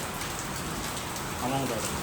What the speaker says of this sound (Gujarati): ફાઇનલી વરસાદ ધીમો થઈ ગયો